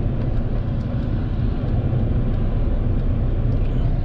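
Steady roar of heavy road traffic passing near a busy shopping area with Walmart and Aldi nearby, a continuous low rumble with no breaks and no voices.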